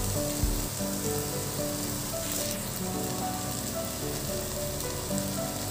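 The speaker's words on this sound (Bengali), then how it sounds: "এবার আমি সবগুলোকে ভালো করে ভেজে নেব।" Ginger-garlic spice paste fries in a pan for a Bengali cauliflower and potato curry, making a steady, close, crackling sizzle that holds evenly throughout with no voices.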